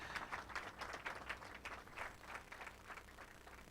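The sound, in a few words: audience applause as speaker comes to the stage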